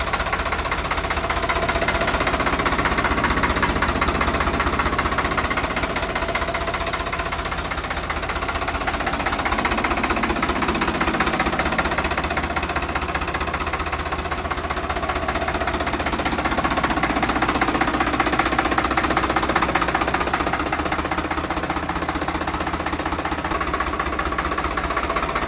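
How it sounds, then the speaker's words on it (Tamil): A 2023 Massey Ferguson 7250 DI tractor with about 150 hours runs steadily, a continuous knocking diesel rumble with little change in pace throughout. "Tractor மேசி ஃபர்கூசனில் 7250 DI power அப்புங்க."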